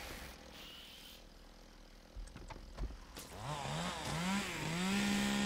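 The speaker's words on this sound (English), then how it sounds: "I can't attack the worm with the chainsaw." Revving chainsaw weapon in the PC zombie shooter Dead Frontier 2, starting with brief mechanical clatter and thumps, then rising into a loud, buzzing engine whine that climbs in steps and holds a steady high drone.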